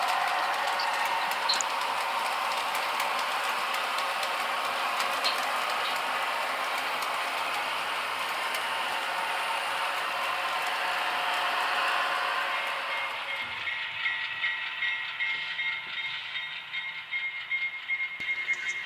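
An HO scale model Super Chief train climbs to the top of a grade and enters a tunnel on a model railroad layout, a continuous rattling roll of small wheels on track that grows softer and more muffled partway through.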